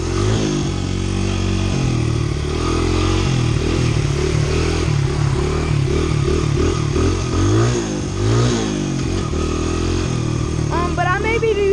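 A Honda CRF100 dirt bike engine runs loud and close throughout, its pitch rising and falling steadily as it accelerates through the gears, with constant wind buffeting over it.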